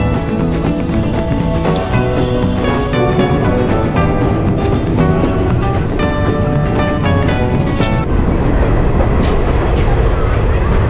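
A passenger train on the New Jalpaiguri to Udaipur City route rolls into Muzaffarpur, India, giving a loud, continuous rumble with rhythmic rail clatter close by.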